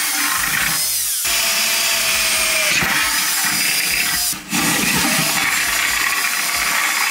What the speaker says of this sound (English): So I'm going to drill these right here